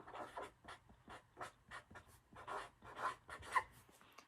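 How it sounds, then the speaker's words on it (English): Marker or pencil writing a number word on a classroom math calendar, a series of short scratchy strokes in quick rhythmic bursts, close and fairly quiet with no talking. "I'm going to go ahead and write the word"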